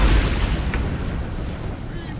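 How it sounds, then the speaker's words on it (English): An explosion in Baldur's Gate 3 starts with a heavy low boom and fades into a loud, rumbling roar that lingers for about two seconds. "hopefully he can survive this explosion"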